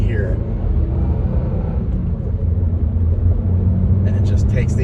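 A 2022 Subaru WRX Limited AWD turbo engine pulling up a winding hill climb, a steady low rumble with turbo whoosh building near the end, heard from inside the cabin.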